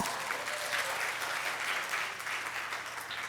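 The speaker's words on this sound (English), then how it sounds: "A round of applause." Applause from an audience at a leadership program's final presentation, a soft, steady patter of many hands clapping together, fairly quiet and even throughout with no speech.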